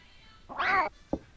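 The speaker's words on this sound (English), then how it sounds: "And it's the cat again." A cat in the video game Clock Tower gives one clear, fairly loud meow lasting about half a second, followed by a short faint thump.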